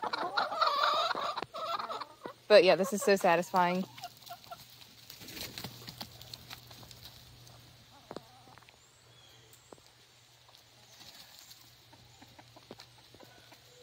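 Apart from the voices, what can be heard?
chickens clucking at their coop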